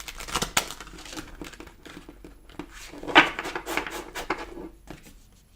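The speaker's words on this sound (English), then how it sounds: "These cards are hard to shuffle." Oracle cards being shuffled by hand, a run of dry, crackly riffles and taps at close range, with a louder cluster of snaps midway before it trails off quietly.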